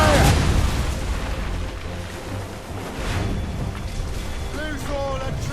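Booming cannon fire from a sailing warship in Assassin's Creed Rogue, heavy low blasts rolling amid ocean and battle noise, with shouted voices over the top.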